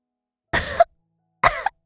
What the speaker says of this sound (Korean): 마른 기침을 하고 말았죠